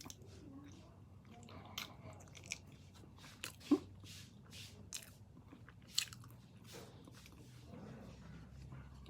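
Someone eats spicy braised pork leg up close, with wet sucking, chewing and a few crunchy bites arriving in irregular bursts, a voice murmuring faintly underneath.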